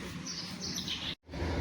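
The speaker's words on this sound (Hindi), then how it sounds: "चिड़िया चहक रही है" Birds chirp and tweet in a quiet village, a bright run of calls that cuts off for an instant and then resumes, with no talk.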